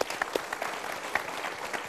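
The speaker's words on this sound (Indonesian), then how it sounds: "Kita berikan tepuk tangan untuk pilihan Anda." Audience applause during a polling segment, a brief dense burst of many hands clapping together with a few sharper individual claps standing out.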